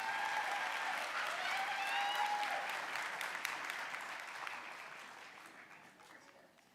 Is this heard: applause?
yes